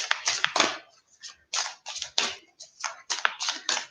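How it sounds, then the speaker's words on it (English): A deck of tarot cards is shuffled up close in a series of quick riffling, papery bursts separated by short pauses. No voices. "Just give them a bit of a shuffle."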